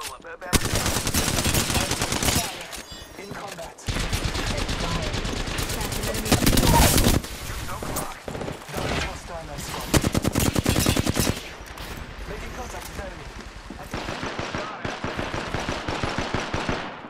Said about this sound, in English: That dude's shooting a freaking P-2020, bro.